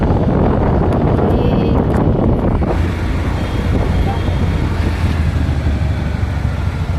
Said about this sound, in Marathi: रात्रीचा कसं वारा सुटला आहे